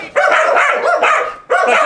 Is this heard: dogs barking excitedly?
yes